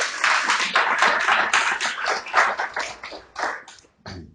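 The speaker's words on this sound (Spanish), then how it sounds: "Usted le puede dar un aplauso a Dios por eso." A church congregation at a Sunday celebration in Medellín applauds, with steady dense clapping that holds for several seconds and then tapers off near the end.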